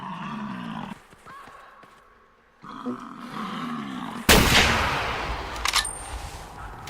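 In the hunting game theHunter: Classic, a rifle fires at bison with a sudden loud blast that rings and echoes into a long decay, following stretches of animal grunts and game ambience.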